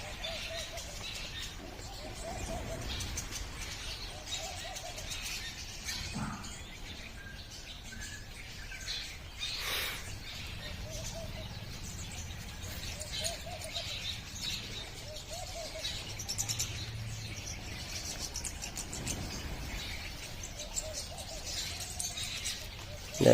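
Birds chirp and call all through a morning at a cremation ground, with repeated soft pigeon coos mixed in among the twittering, all fairly faint and spread over a quiet background.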